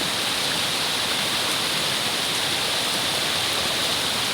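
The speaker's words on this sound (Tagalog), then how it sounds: "Ito yung sapa." Floodwater flowing in a creek after fast flooding, a steady, loud rushing of water that stays close and constant throughout, with no voices over it.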